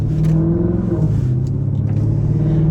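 Dodge SRT8 Charger engine driving through suburban streets, a steady, loud low rumble with mild revving swells, heard close from inside the car for the whole stretch.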